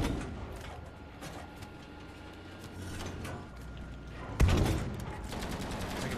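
Machine gun fire in Battlefield 5 on the Aerodrome map, a fairly distant, subdued crackle of bursts in the background, then a louder close burst or impact near the end.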